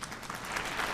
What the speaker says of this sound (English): Big round of applause for you there.